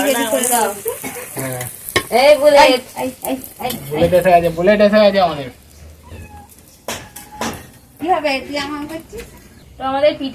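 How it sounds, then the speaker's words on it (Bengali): Rice and radish pitha frying in a pan, a steady close sizzle running beneath nearly continuous talking, with brief pauses where the crackle comes through on its own. "ভাজা হচ্ছে দেখো এখানে লাল লাল করে ভেজে নিয়েছি"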